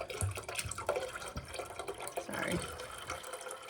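Water pours from a half-full bottle into a pot already holding red wine and a mulling spice bag, a close splashing fill under kitchen clatter, with one brief spoken word.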